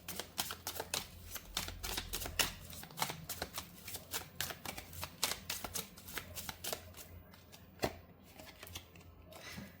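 A tarot deck is shuffled steadily for nearly ten seconds, the cards riffling in rapid, close, crisp bursts with brief gaps, and no voices over it.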